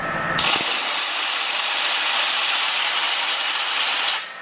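60,000 PSI waterjet blasting a thin metal spoon, a loud steady hissing roar that starts abruptly and runs continuously before cutting off.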